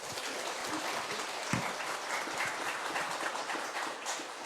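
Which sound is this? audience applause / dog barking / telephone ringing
audience applause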